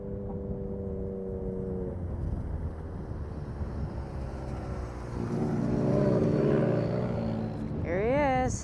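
A Can-Am off-road racer roars past during the Best in the Desert Vegas to Reno desert race, its engine building to a loud pass over wind noise, then a rising, pitch-shifting whine near the end; a voice speaks over it.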